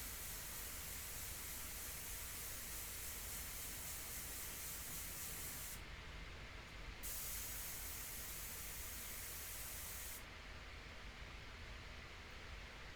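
Airbrush spraying India ink onto paper for a portrait, a steady, continuous airy hiss lasting throughout with brief pauses in the highest part of the spray, close and alone.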